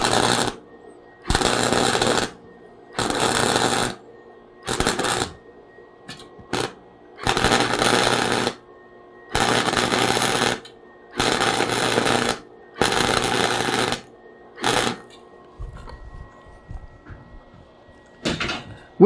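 Flux core arc welding pulsed in short bursts on thin metal already prone to burning through: about eight loud, crackling, buzzing arc bursts of one to two seconds each, separated by brief silent pauses, close and steady in rhythm.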